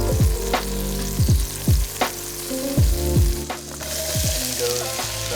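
Mushrooms and onions sizzle steadily in a pan during truck camping in cold mountains, with repeated sharp clanks and scrapes of a utensil stirring against the pan over the continuous frying hiss.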